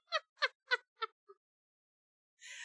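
A human voice imitates a cat, giving five quick meows that shrink in length and loudness, the last a tiny squeak, then silence and a brief burst of hiss-like noise at the end.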